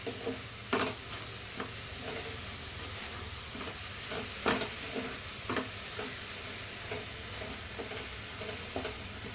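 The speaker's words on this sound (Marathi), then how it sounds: "असं मिक्स करता करता स्मॅश पण करून घ्यायचं" Cooked lentils are stirred and mashed with jaggery powder in a pot, soft scraping strokes and dull knocks of a spoon repeating at an uneven pace over a faint steady hiss, close and quiet, with no talking.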